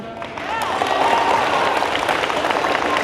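Audience applause fills a school talk on vaping, a dense, steady wash of many hands clapping at moderate volume, with a few voices calling out briefly over it.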